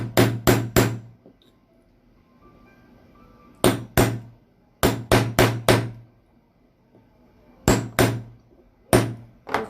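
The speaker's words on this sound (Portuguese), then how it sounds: "Então eu vou usar essa ferramenta aqui para fixar o ilhós no tecido." A hammer strikes an eyelet setting tool to fix a metal eyelet into fabric, sharp loud blows coming in quick clusters of two to four with pauses between, close and alone.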